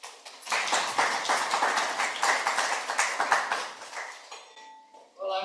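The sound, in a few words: audience applause for panel speaker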